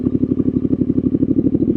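Triumph Street Scrambler 900 motorcycle, a roughly 64-horsepower twin, running close and loud with a steady, fast, even pulsing beat throughout and no talk.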